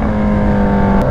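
Fast-moving cars on a major highway, with a steady close engine drone and a sustained tonal hum that holds level throughout, no voices.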